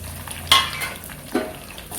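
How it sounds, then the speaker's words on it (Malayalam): Red chillies and curry leaves sizzle in a pan as they are stirred, with a few sharp scrapes and clinks of the spoon against the metal over a steady frying hiss. "നന്നായിട്ട് ഇളക്കി കൊടുക്കുക."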